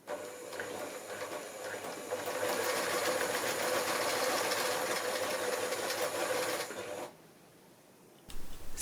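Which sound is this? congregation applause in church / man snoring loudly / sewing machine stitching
sewing machine stitching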